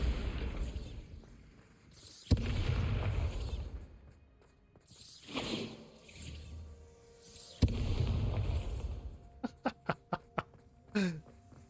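A Bombarda spell goes off in Hogwarts Legacy: a sharp blast sounding amid continuous game combat noise and spell effects, followed by a rapid series of short crackling impacts near the end.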